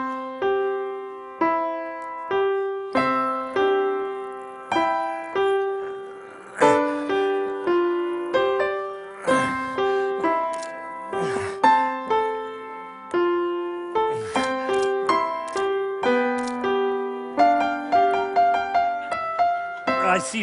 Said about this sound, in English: I want to remind you of what a 7-year-old child sounds like when he plays the piano